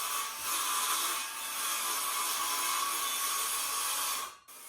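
A power saw makes a plunge cut into a kitchen subfloor being replaced, chipboard to plywood, producing a loud, steady, gritty whine that drops away sharply at the end.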